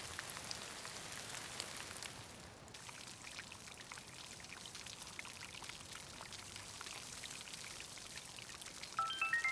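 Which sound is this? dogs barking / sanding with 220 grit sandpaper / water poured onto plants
water poured onto plants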